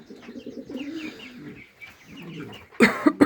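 Pigeons in a home dovecote, a pair with their first squabs, give soft cooing calls through most of the moment, with faint chirps above, then a louder close burst of rustling or flapping near the end.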